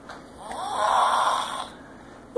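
A sleeping man snores loudly nearby, one long rasping breath that swells and fades, with no talking over it.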